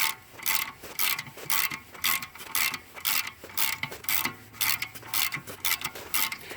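A ratchet with an 8mm socket clicks in rapid bursts of close, crisp ratcheting strokes while working the brake caliper bolts during a VW MK4 Jetta rear wheel bearing job.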